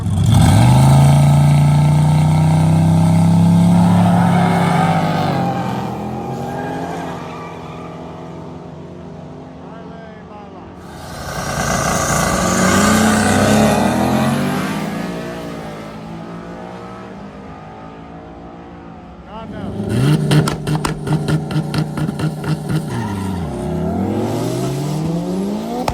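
A turbocharged drift car accelerates and revs hard, with loud rising engine whines that fall off, pass and return, plus a rapid fluttering burst near the end.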